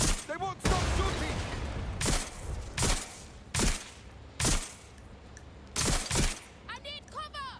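Repeated bursts of gunfire in the video game Watch Dogs Legion, loud broadband shots spaced about a second apart, with a voice talking between and over some of them.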